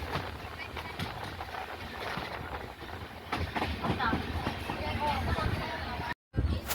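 Mysuru Express rolls slowly through Karunagappally railway station without stopping, a steady rumble with faint rhythmic wheel clatter heard from on board, moderately quiet throughout before a short break near the end.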